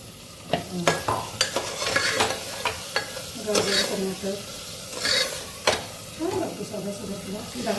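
Pigeon pea (toor) beans being stir-fried in masala for a Nagpur-style spiced rice pulao, with a continuous close sizzle and frequent sharp scrapes and taps of a spatula against the pan.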